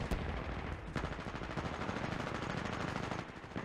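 Rapid automatic gunfire from Titanfall 2 gameplay, a dense continuous burst of shots with a few louder cracks, filling the whole stretch without voices.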